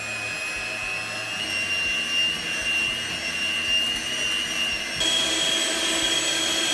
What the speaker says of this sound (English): in a separate bowl, whisk the egg whites and the remaining 75 grams of caster sugar together to a stiff meringue